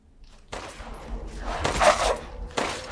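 Gunfire in the video game Resident Evil Village: several sharp, loud bursts in quick succession, a cluster of shots with a strong middle blast, heard close and without talk.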